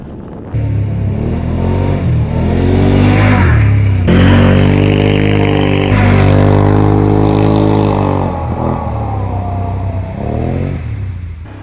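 A 2021 Can-Am Outlander 850 XT ATV engine revs and pulls hard on dirt trails, loud and close, rising and falling through throttle changes with no talking.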